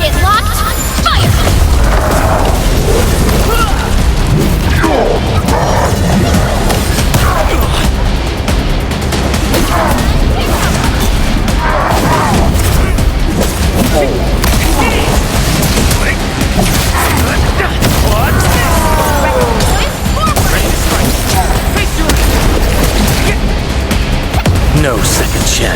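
Explosions and gunfire rumble through an Arknights: Endfield battle, a dense, loud, unbroken wash of booms and bursts with game effects layered throughout.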